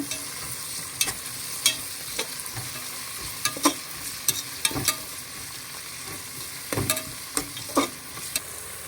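Onions and chopped tomatoes frying in a pan while a spoon stirs them, with quiet continuous sizzling and irregular clinks and scrapes of the spoon against the pan, close and without talk.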